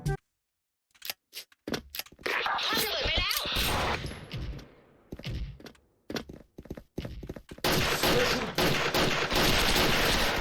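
Sharp revolver shots from a White M629 in the Special Force online shooter, scattered single cracks and quick clusters between stretches of near silence, followed by a dense, continuous stretch of game noise.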